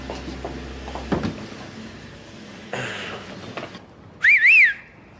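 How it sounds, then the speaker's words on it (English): A person whistles a quick rising-and-falling wolf whistle, loud and near, near the end of a fairly quiet indoor stretch with a few soft knocks and rustles before it. "I keep telling him to stop whistling at all the pretty lassies"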